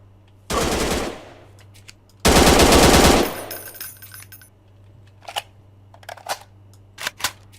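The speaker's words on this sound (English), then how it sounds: "So we're practically on top of that guy, and so he's shooting us." Enemy gunfire in the video game Martial Law: two sustained bursts of rapid automatic fire, loud and close, followed by several short, sharper single shots scattered afterward.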